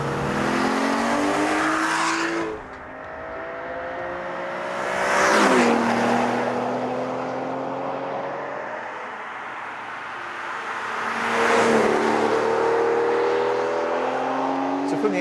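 An Aston Martin DB9 engine revs and roars past in several surging passes, pitch rising with each acceleration and fading as it drives away.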